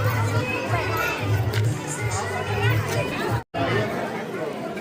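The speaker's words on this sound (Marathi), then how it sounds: "या ठिकाणी गर्दी वाढत आहे" Crowd chatter at a children's market, many young voices and shouts overlapping in a continuous busy hubbub, with a very brief dropout near the end before the noise resumes.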